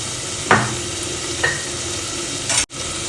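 Tomatoes sautéing with a little salt in a pan, a steady sizzle and frying hiss with a few stirring scrapes, close and continuous with no talk.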